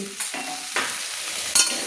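Pumpkin and potato pieces sizzle in oil while a spoon scrapes and stirs the pan, with a few sharp clinks breaking through the hiss.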